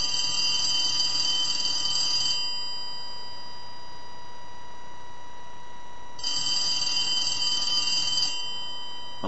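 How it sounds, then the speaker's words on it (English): An antique elephant brass telephone under repair rings its bell in two loud, rattling bursts of about two seconds each, separated by a quiet pause with a steady hum underneath and no talking. "First I want to ring the phone."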